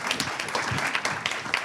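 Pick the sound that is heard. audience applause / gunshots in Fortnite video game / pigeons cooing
audience applause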